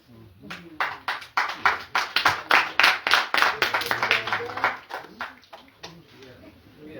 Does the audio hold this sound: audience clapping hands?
yes